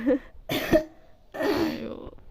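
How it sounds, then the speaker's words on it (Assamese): Three loud, harsh coughs close to the microphone, spaced about half a second apart, with brief quiet gaps between them. "চাওঁচোন কাহ হৈ গৈছে তাই"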